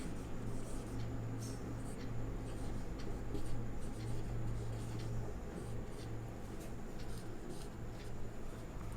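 Chalk or marker writing on a board, with faint repeated scratchy strokes over a steady low background hum.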